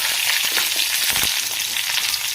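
Curry leaves hit hot oil with mustard seeds in a pan, giving a loud, continuous crackling sizzle with sharp spitting pops throughout.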